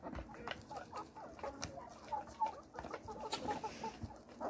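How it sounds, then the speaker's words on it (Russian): Hens cluck steadily and close by in a farmyard flock, among them a curly-feathered hen, with overlapping short calls and no talking. "зови своих курочек, зови. Ко-ко-ко-ко-ко"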